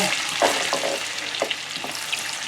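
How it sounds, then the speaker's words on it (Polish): Chopped onion frying in melted butter in a pan gives a dense, continuous sizzle with a few light scrapes of stirring, loud and close, no voices. "Na patelni wrzucamy poszatkowaną, posiekaną cebulkę."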